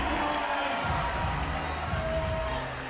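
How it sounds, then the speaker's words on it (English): A large crowd at a bouldering competition roars and cheers loudly and without a break, a thick wash of voices with a few sharp thumps mixed in. "The crowd is going nuts."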